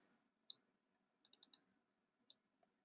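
Computer mouse clicks while working in vector drawing software: a single click, then a quick run of four rapid clicks, then one more, crisp and close in a quiet room.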